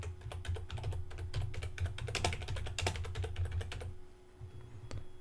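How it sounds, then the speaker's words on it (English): Text is typed on a computer keyboard in a quiet room: a fast, steady run of close keystroke clicks that thins out and stops near the end, with no speech. "I'm going to type the text that I want."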